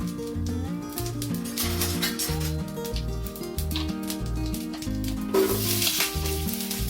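Cinnamon, cloves, cardamom and cumin sizzle in hot oil in a pan, a steady close crackling fry with faint stirring, heard alone under background music.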